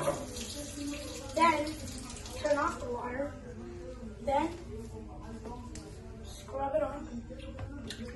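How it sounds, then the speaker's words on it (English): Tap water runs steadily into a kitchen sink during dishwashing, a continuous rushing hiss with a few brief bumps and clatters, while someone talks over it. "turn on the water"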